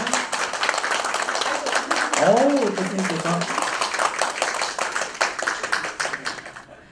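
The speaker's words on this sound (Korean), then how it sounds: "네, 박수 부탁드리겠습니다." An indoor audience at a lecture claps steadily for several seconds as a host speaks over it, and the applause fades out at the end.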